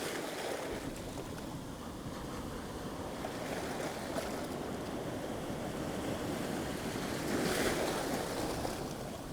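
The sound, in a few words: sea waves at rocky shore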